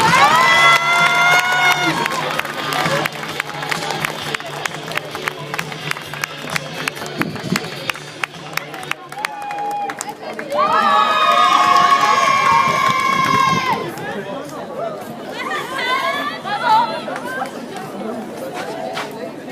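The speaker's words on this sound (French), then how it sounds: "je vous demande de faire du bruit pour les médaillés" A crowd cheers, claps and chatters for medal winners at a club dressage prize-giving in Lamotte, with whoops and shouts swelling in loud bursts over about twenty seconds and staying busy throughout.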